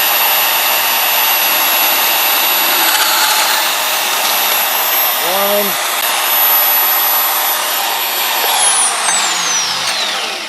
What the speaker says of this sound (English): we're just going to turn on my bench bandsaw. Just going to cut it off.